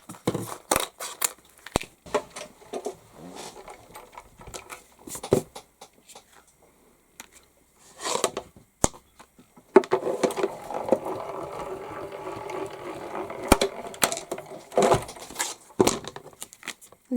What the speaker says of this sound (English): then we can just die cut that out